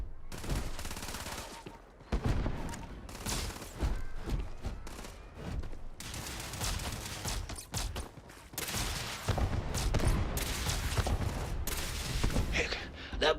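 Rapid bursts of gunfire from a Starfield game fight, dense volleys with sharp reports and thuds that stay loud and busy throughout, with brief lulls and a few faint vocal sounds.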